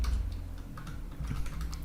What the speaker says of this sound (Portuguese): usar a seta do teclado e ir até ela